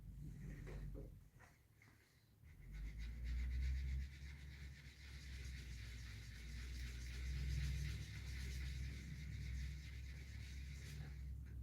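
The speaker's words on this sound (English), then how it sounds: "I'm going to sand back here." Sandpaper rubs steadily back along the edge of dried paint on a surface, making a continuous soft abrasive hiss with a low rumbling undertone, close and fairly quiet.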